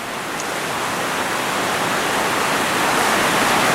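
The river at Big East Fork rushes as a loud, steady broadband roar of flowing water, constant and close, with no voices.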